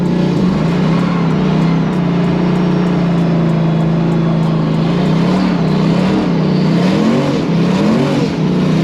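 A 1000bhp turbocharged LS V8 Datsun 280Z accelerates hard in second gear, its loud steady engine roar rising in pitch toward the end, heard close from inside the car with no talking.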